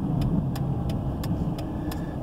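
A car rolls along an interstate exit ramp, heard from inside as a steady low road and engine rumble with a faint regular ticking, no talking.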